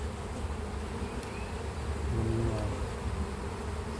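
Honey bees buzz steadily around a beehive, a soft continuous drone with a few individual bees passing close.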